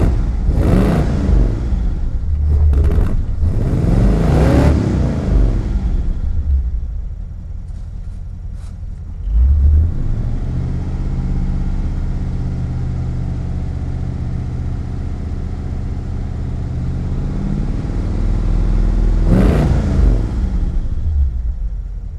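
A Mercedes car engine revs and accelerates with loud, close rumbling and whirring, climbing in pitch through a couple of surges, settling into a steady drone, then revving again near the end, with no talk.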